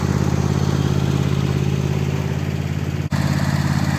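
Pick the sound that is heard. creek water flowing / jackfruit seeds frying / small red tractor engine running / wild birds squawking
small red tractor engine running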